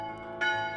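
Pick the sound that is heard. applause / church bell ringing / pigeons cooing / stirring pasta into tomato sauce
church bell ringing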